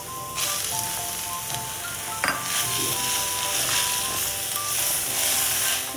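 Mashed potato stirred into sizzling grated beetroot, carrot and peas in a frying pan, a continuous close hiss broken by a few sharp spatula scrapes, with soft background music.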